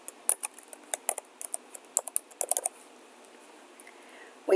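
Keys clatter on a computer keyboard as a first name is typed into a CRM contact form, a quick burst of irregular clicks close to the microphone, then a pause and a final tap.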